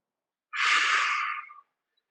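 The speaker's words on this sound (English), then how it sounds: "breathing in, breathing out, breathing in, breathing out" A single long breath of about a second, broad and airy, heard alone and fairly close during a back and SI joint recovery exercise.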